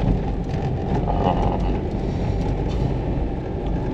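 Inside a 2020 Daihatsu Sigra seven-seat MPV rolling over paving blocks, a steady low rumble of tyres and road vibration fills the cabin, with some wind noise and no talking.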